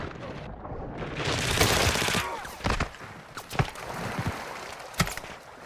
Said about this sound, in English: Well, someone else is shooting me.